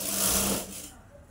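A sewing machine stitches a nine-yard Kolhapuri Navvari saree in a short, steady whirring run that slows and stops after about a second.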